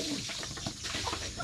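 Faint clucking from a chicken, a few soft short calls amid quiet background noise.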